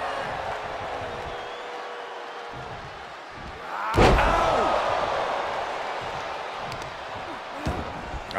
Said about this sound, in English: then slamming their face down